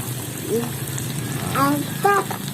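Tomatoes fry in a pan as they are stirred for traditional sambal telur with chives, a steady sizzle with soft scraping, while a voice speaks briefly over it.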